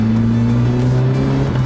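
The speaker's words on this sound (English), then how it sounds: "Now I'm going to take it on the road and see what the real difference is" A Toyota AE86 driving on a sunny road in Cork gives a strong, steady engine drone heard from inside the car, loud and even over the short stretch with no one speaking.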